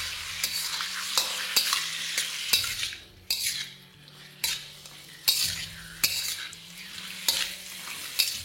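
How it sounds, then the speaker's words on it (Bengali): Boneless chicken is stirred and mixed in a hot pan, with repeated sharp scrapes and clinks of a utensil against metal over a steady sizzle, close and rhythmic. "আর দেওয়ার পরে এই চিকেনগুলোকে একবার ভালো করে আপনাদের মিশিয়ে নিতে হবে।"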